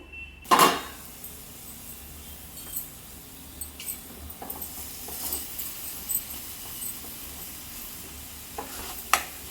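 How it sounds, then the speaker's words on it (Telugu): Curry frying in a pan over a low flame gives a soft, steady sizzle with a sharp stir or clatter near the start and scattered small scrapes and clicks, no voices. "బాగా ఫ్రై అయిపోయింది"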